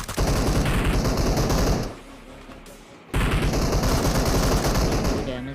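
Rapid automatic gunfire in a PUBG Mobile match comes as two dense, loud bursts of sustained rattling shots separated by about a second of quiet.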